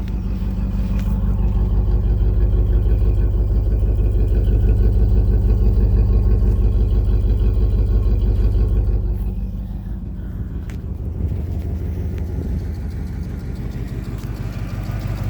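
A 1987 Camaro IROC Z28 engine idling close by with a deep, steady rumble, then settling to a lower, slightly uneven idle partway through.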